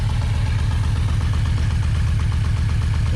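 A Yamaha V-Max 1200 motorcycle, just revived after long storage, idles with a loud, steady low rumble and an even pulsing beat, close up and with no talking.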